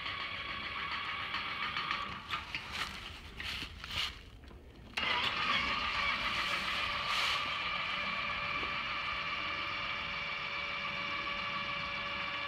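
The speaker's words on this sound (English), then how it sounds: "You want to open it all the way, just so that limit can run all the way down that screw" A Patriot gate opener motor starts and runs steadily with a constant mechanical whine as its limit travels down the screw, after a few clunks and knocks, faint and continuous to the end.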